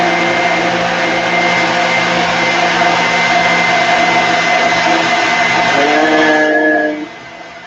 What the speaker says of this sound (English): get some cocoa out and put it in the blender